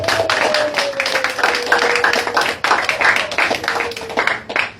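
A church congregation applauds in praise of the Lord, with dense overlapping hand claps filling the room and a faint sustained tone underneath.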